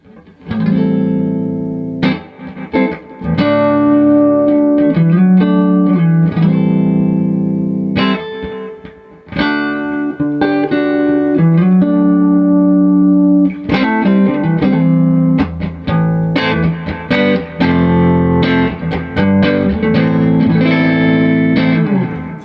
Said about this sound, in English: I'm going to add some delay in this drive pedal from J-Rocket Audio